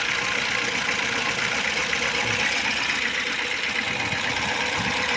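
A VAZ 2101 engine idles just after its gas reducer was replaced, with revs slightly raised, giving a steady, close, even rumble with no break.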